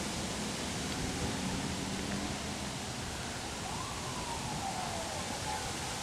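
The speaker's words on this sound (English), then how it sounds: "you hear a lot of emergency sirens going off in the neighborhood" Emergency sirens wailing through a Flushing, New York neighborhood after a 2010 tornado, distant rising and falling tones half buried under a constant broadband roar of wind and street noise.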